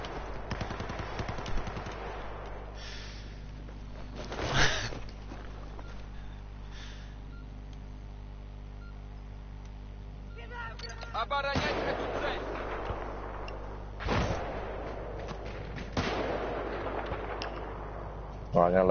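Gunfire in the video game Battlefield 4, with loud bursts of rifle and heavy weapon fire, booming blasts and bright cracks scattered over a rumbling battle backdrop, and players talking over it.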